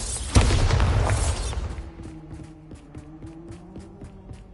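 A Bombarda blasting spell erupts in the video game Hogwarts Legacy with one loud, close boom that rolls away, followed by a run of light clicking and rattling mechanisms.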